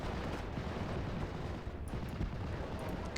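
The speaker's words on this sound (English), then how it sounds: "Nice mortar fire." Mortar fire in the video game Steel Division: Normandy 44, a dense barrage of booming blasts and rumbling impacts that keeps going without a break, with a few sharper cracks near the middle.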